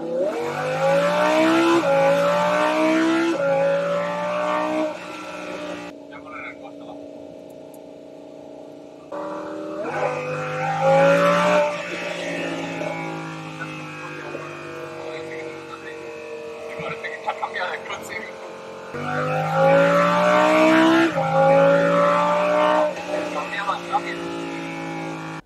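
A Lamborghini Huracan's engine revs after a switch of driving mode, rising and falling in loud, close sweeps with brief pauses between bursts, and a voice speaking Spanish over parts of it.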